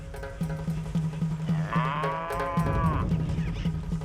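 A cow lets out a long, loud moo amid a herd of about 11,000 cattle in Paraguay's Chaco, with a steady low rhythmic thumping underneath and faint background animal sounds.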